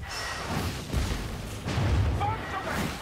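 Explosions go off in the Warhammer Vermintide fantasy video game, with several deep, heavy booms rumbling at mid distance over a busy battle background.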